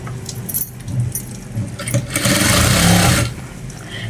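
A sewing machine stitches a uniform shirt in short uneven bursts, ending in one longer, louder run of rapid mechanical clatter close by.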